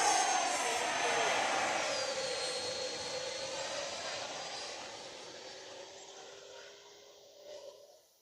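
A Freewing F-22 Raptor RC jet plane flies past with a loud, steady turbine roar and whine that slowly fades over several seconds as it moves away.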